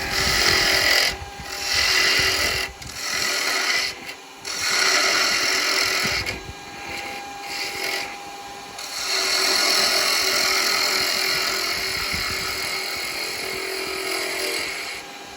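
Small old Record Power spindle gouge cutting a spinning wood blank on a lathe, a close whirring, hissing scrape in long passes separated by brief gaps, steady and loud without any speech.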